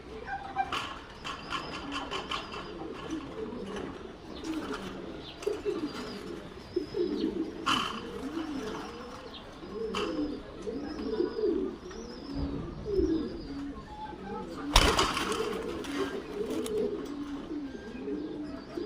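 Jaafari Okouri pigeons coo repeatedly in soft, rhythmic rolls close by, joined by occasional wing flutters and a few sharper knocks, with no talk.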